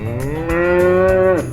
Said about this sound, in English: That's the sound of a cow.